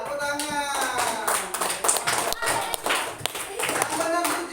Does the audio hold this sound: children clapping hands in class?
yes